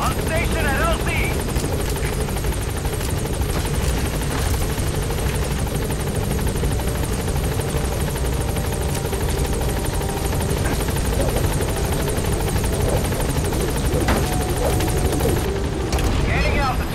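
Helicopter in Metal Gear Solid V: The Phantom Pain arriving at a landing zone, a loud steady rotor drone with whine lasting throughout, with radio voice chatter over it.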